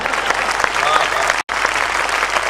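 An audience applauds at a Hindi poetry recital, with dense, loud, sustained clapping from a large crowd and a brief cut partway through.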